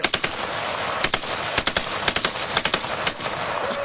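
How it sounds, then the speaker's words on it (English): A machine gun fired by a four-year-old child at a gun party, heard as several quick bursts of sharp, loud shots separated by brief pauses. "taking on a machine gun at age 4"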